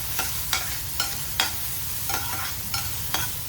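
Onions fry in a pan under a steady low sizzle, with a spoon stirring in regular strokes roughly every half second, close and fairly loud, no voices.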